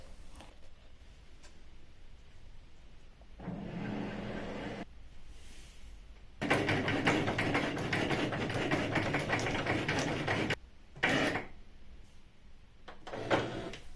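A cutting machine slices silver iron-on vinyl into Diwali designs, giving steady mechanical whirring and clicking in two bursts, a shorter one and then a longer, louder stretch, separated by quiet pauses.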